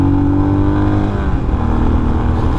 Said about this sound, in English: there's the downshift again. I didn't even hesitate to downshift.